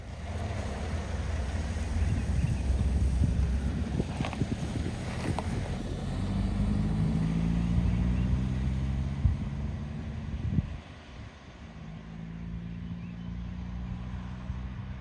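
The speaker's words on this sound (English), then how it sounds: "And straight away we get going in this W123 230E auto, and feels beautiful" A 1986 Mercedes W123 230E with automatic transmission pulls away and drives. The engine makes a steady, moderate hum that rises as it shifts up, with some road and wind noise inside the cabin.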